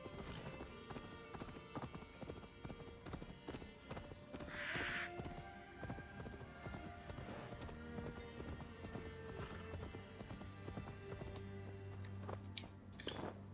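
Horse hooves clip-clop steadily in Assassin's Creed Valhalla, with a brief whinny partway through, layered over game music and ambient effects with some talk.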